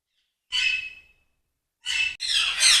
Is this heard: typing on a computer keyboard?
no